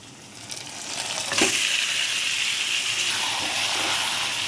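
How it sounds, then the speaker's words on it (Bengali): Marinated mutton hits hot oil with onions already fried red, and a sudden loud sizzle and hiss swell up and then hold steady and close, with some stirring underneath. "এবার মেখে রাখা মাটনটাকে দিয়ে দেব।"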